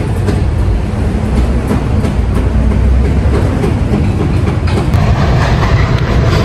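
New York subway train arriving at a platform, a loud, continuous roar of wheels on rails with clattering and a brief squeal near the end, close and enveloping.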